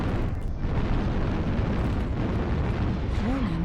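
A mech is destroyed in the MechWarrior Online game with a dense, rumbling blast of noise that holds steady for several seconds, ending with a brief warbling tone.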